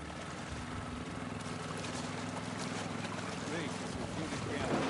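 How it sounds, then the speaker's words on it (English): Boat engine running in The Last of Us Part II, a steady low droning hum with wind and water noise over it, continuous and fairly loud throughout. "Got the engine back up."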